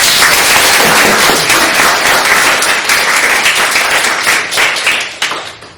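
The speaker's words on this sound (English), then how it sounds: "give KB a round of applause." Audience applause at a community gathering closes out a talk: loud, dense clapping sustained for several seconds before thinning and fading away at the end.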